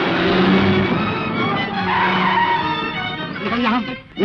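A car in an old Hindi film screeches to a halt on the driver's command, a loud sustained tire squeal and skid lasting several seconds, rising in pitch before it ends.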